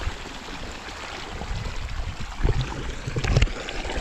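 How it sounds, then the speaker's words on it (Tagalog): Strong floodwater rushing over a planted field, a steady broadband roar of flowing water with heavier surging bursts near the end, fairly close and without speech. "Lakas po ng pagkatubig."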